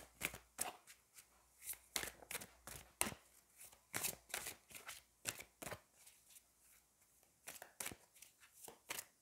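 Angel oracle cards being shuffled by hand, a quick run of crisp riffling flicks and soft slaps in uneven bursts, close and fairly quiet with brief pauses between.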